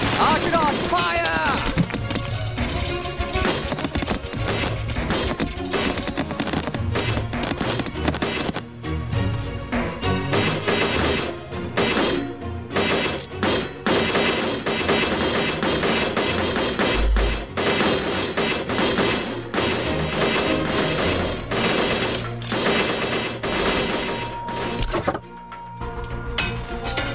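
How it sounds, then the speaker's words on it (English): Archidon archers firing volleys in the Stick War game, a dense, continuous barrage of thuds and booms under battle music and game noise, with voice commands repeated throughout. "Archidons, fire! Archidons, fire!"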